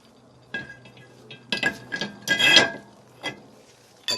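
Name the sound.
brake rotor disc being put on a 1995 Accord hub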